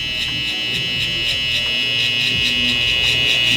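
A skinny-bladed electric hair trimmer buzzes in a steady, high, close-up whine without pause while cutting a burst fade around the ear.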